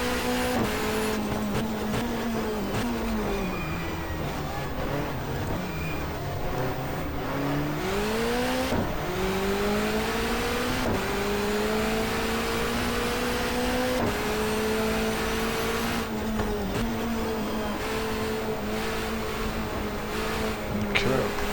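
A touring car engine in the GTR2 racing game, at a 1994 Asia-Pacific championship street race, drones loudly and steadily, dropping in pitch on downshifts and then climbing again as it accelerates, with brief tyre and gear noises.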